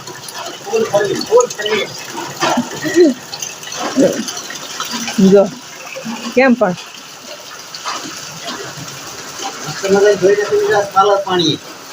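Monsoon rainwater gushes down a residential street in a steady rushing wash, heard under frequent nearby talking voices.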